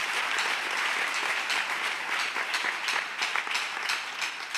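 Congregation applauding in a Pentecostal church service, a dense, steady wash of many hands clapping at close range for several seconds, with no talk over it.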